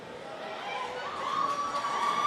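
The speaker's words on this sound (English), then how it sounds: "We got some support in the crowd for Apollo." Crowd at a combat robotics event cheers and shouts in support of the robot Apollo, a steady roar of many voices with whoops rising toward the end.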